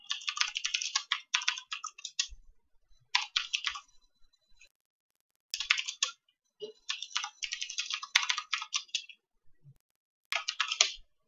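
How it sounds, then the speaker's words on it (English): Bursts of rapid typing on a computer keyboard during Java programming, close and fairly quiet, coming in several runs of clicky keystrokes separated by short pauses. "I'm also typing this."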